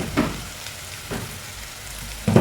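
Onions soften in a hot pan with a steady, moderate sizzle, punctuated by a few stirring scrapes and a louder burst of crackle at the end, close and without speech.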